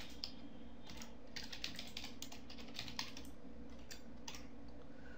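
A computer keyboard is typed in a steady run of quick close keystrokes, a continuous patter of light clicks over quiet room hum, with no talking.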